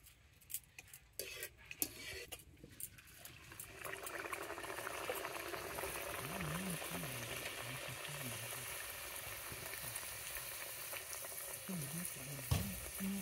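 Hot oil sizzles faintly in a pan ready for frying green pea kochuri, a soft, steady hiss mixed with light utensil clinks and quiet voices nearby.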